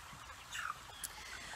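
Chickens packed 30,000 to a 500-foot-long, 63-foot-wide poultry house give faint, scattered clucks and short chirps over a low, steady murmur.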